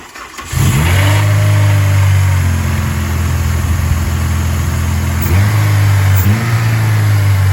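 Acura RSX engine swapped into a DC2 chassis cranks and catches, then settles into a loud close idle with two quick blips of revving near the end.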